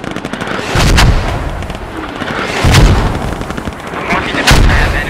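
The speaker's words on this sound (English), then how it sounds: "I've got mortars going off on that hill that's gonna suppress that hill and dust it" Mortar rounds detonate on a hillside in a tactical multiplayer squad shooter, three heavy booming impacts spaced about two seconds apart over continuous rumbling battlefield noise, loud and fairly close.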